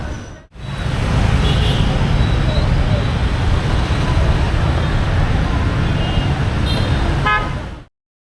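Loud, dense street traffic in Hanoi, with mopeds and cars streaming past close by. Several short horn toots cut through the steady roar before it cuts off abruptly.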